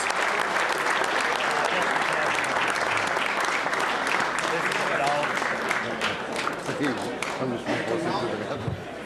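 An audience at a formal dinner and awards evening gives sustained applause for the organizing committee, dense and steady clapping from a large crowd close by, with some voices mixed in and the clapping thinning slightly at the end.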